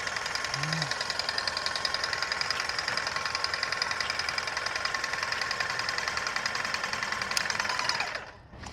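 Stain sprayer pump priming as it runs: a steady, close mechanical buzz with rapid knocking pulses that holds for about eight seconds and then cuts off abruptly.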